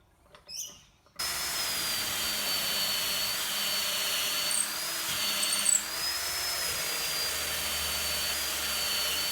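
A brief quiet rustle, then a power drill starts and whines steadily and loudly for several seconds, pitch wavering slightly as it bores dowel holes in wood.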